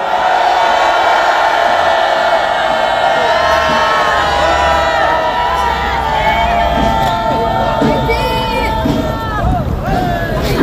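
Loud crowd cheering and shouting at an outdoor political rally in Korea, sustained roar with raised voices and chanting throughout.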